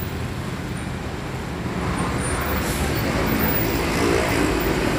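An Agramas M070 Lumintu bus sits in a busy bus terminal, its deep engine rumble blending with steady traffic noise that swells slightly over five seconds.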